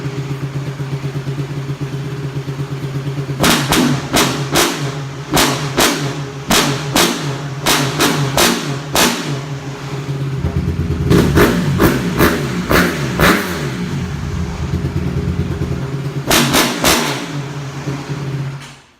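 A dirt bike engine fitted with a long PVC pipe exhaust idles loudly, then revs in repeated quick blips, with a longer sustained rev in the middle and a final pair of bursts, all close and loud with no talking.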